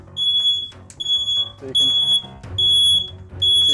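A kitchen smoke alarm goes off while the oven is in use, sounding loud, piercing beeps in repeated bursts. A voice speaks briefly beneath the alarm.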